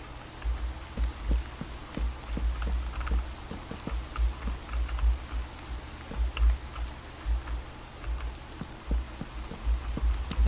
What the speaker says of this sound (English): At least we'll keep the rain off my head.